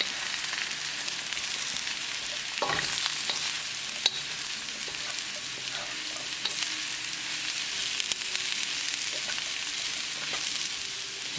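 Mushrooms and translucent onions frying over medium heat in a pan for chicken Marsala, a constant hissing sizzle with an occasional scrape or clink of the spoon, no one speaking.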